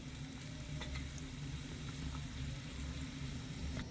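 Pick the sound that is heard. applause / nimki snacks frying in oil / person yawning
nimki snacks frying in oil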